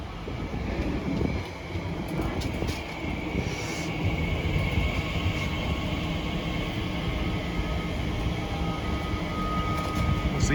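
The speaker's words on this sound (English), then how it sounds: "arriving in now is a 345 from Abbey Wood to Heathrow Terminal 4, 345047" A Class 345 train from Abbey Wood to Heathrow Terminal 4 arriving at Acton Mainline station, a steady rumbling roll with wind noise on the microphone and faint squeals, constant in level without any clear approach or stop.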